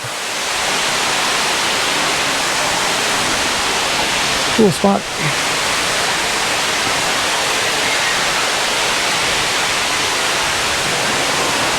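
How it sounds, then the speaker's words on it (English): Silver Falls in Oregon roars loud and constant, heard from a walkway behind the falling water; the dense rushing wash fills everything, with a person speaking only briefly partway through. "Not every day you get to walk behind a waterfall and not get wet."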